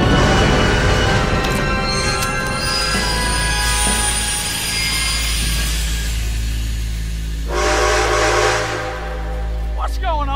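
A train in the video game Red Dead Redemption 2 rumbles steadily with a deep low drone throughout, joined by a bright whistle-like burst near the end, while a voice talks over it.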